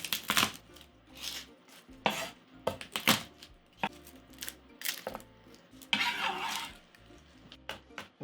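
About four garlic cloves smashed and chopped on a cutting board, a series of sharp, irregular knife thuds and taps with quiet gaps between, fairly close.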